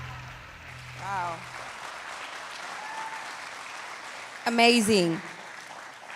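Audience at a youth summit breaking into applause with some cheering, a sustained clapping wash joined near the end by a loud, close whoop over a speaker's brief exclamation.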